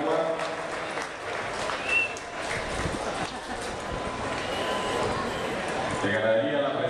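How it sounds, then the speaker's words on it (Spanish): An audience applauds a champion Brahman bull from Luz y Sombra ranch at a Nicaraguan livestock fair in Managua, steady clapping lasting several seconds under a loudspeaker announcer's voice. "Un aplauso también a este toro de ganadería Luz y Sombra de Nicaragua"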